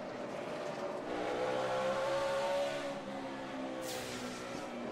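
NASCAR stock cars racing at the 2008 Food City 500 at Bristol, a loud continuous engine roar with harmonic drone rising and falling as cars pass, and a brief hiss near the end.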